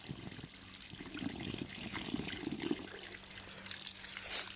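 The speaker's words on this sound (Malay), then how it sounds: "Kemudian kita akan campurkan dengan air biasa." Plain water trickles and splashes into a bottle holding a tobacco insecticide mixture, a close, continuous pouring gurgle with small bubbling variations.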